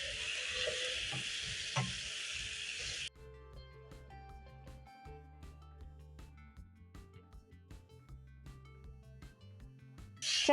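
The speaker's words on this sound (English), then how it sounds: "Toss the chicken with the seasoning" Chicken breast sizzles in a pan while being tossed with garlic powder, paprika, cumin and salt, a steady loud fry for a few seconds giving way to quieter stirring and scraping with scattered clinks.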